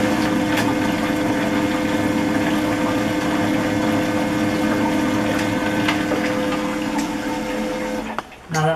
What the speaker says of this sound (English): it is cycling that cold water over our beverage